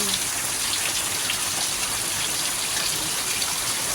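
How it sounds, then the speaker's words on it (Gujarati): Heavy rain pours down on a dairy farm in a dense, continuous hiss that stays steady and loud throughout. "એકદમ ધોધમાર વરસાદ ચાલુ થઈ ગયો છે"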